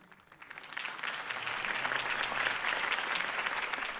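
A video game crowd breaks into applause that quickly swells and holds as steady, dense clapping.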